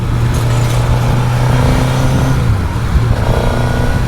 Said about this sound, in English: doing a little bit of heavy traffic now, just to see how the lane splitting capabilities are on this bike for commuting purposes